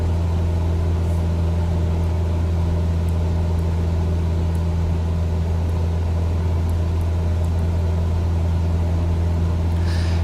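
A steady, droning propeller aircraft engine in Microsoft Flight Simulator hums continuously at a constant pitch, loud and unbroken, with no talking.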